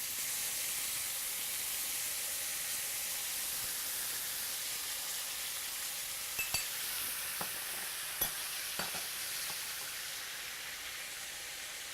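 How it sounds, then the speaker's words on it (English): Ginger and soy sauce spooned over flipped salmon in a hot pan gives a steady, even sizzle of frying, with a few faint clicks of the spoon against the pan partway through. "let's spoon some of our ginger and soy"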